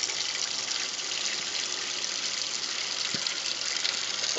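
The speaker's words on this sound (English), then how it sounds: "you're going to fill your sink up with water" Tap water pours steadily into a kitchen sink, a continuous broadband gush with no pauses, moderately loud and heard alone without talk.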